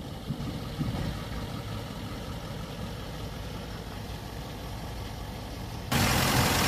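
A Range Rover 4.4 diesel engine idles with a steady low rumble and rattle, close and continuous, growing louder and rougher near the end, while the vehicle has a faulty diesel particulate filter differential pressure sensor.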